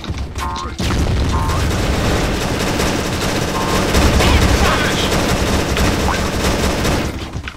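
A close, loud grenade blast followed by continuous rapid gunfire in a multiplayer shooter, a dense sustained barrage of shots and booms lasting several seconds.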